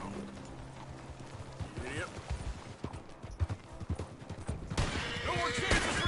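Horse hooves clip-clop in Red Dead Redemption 2, a rhythmic run of hoofbeats under a man's excited, cursing commentary, with gunshot-like pops and game effects joining near the end.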